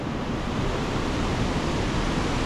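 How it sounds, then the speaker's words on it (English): Waterfall in Pokhara, Nepal, a steady full-bodied roar of rushing water that fills the whole clip at an even, close level without pauses or voices. "And then there's a waterfall right at the end."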